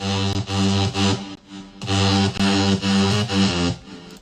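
A pounding electro house drop with distorted, gritty synth bass stabs in a choppy rhythm, loud and continuous with brief gaps between phrases.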